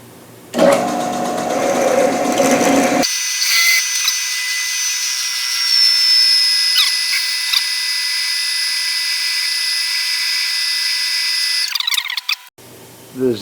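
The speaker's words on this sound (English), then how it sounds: "just drill them down to the stop." Holes are drilled on a small Grizzly milling machine while making a mill vise stop: the motor runs with a steady high whine, the bit cutting with shifting tones, then stops near the end.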